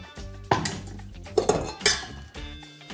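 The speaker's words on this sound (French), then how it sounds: "maintenant qu'on a notre saladier qui est posé sur la balance" A mixing bowl set down on a kitchen scale gives a few close clinks and knocks of dishware, spaced irregularly over a quiet kitchen background.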